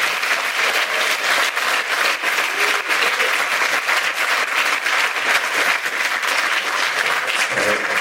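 A panel-discussion audience breaks into sustained applause for the host, a dense, even wash of many hands clapping indoors that holds steady for the full eight seconds without voices on top.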